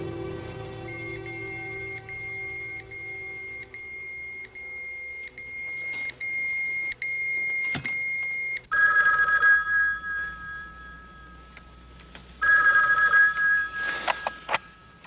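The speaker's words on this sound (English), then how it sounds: "John, that beeper that Pinzolo gave you, it just went off." An electronic pager beeper goes off in tonal chirping bleeps, starting softly with a steady tone, then sounding in louder bursts toward the end, with no one speaking.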